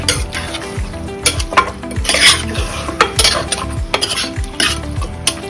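Mutton curry being stirred in a pot, with loud, repeated metal scrapes and clanks of a spoon against the pan over a steady sizzle, close and rhythmic.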